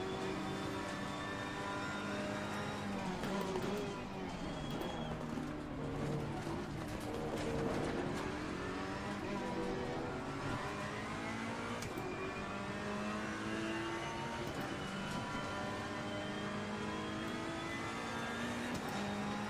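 Race car engine in Assetto Corsa Competizione, running in an eco-focused race with a higher-power engine mode for the final laps, droning and revving continuously with shifting pitch as other cars pass nearby.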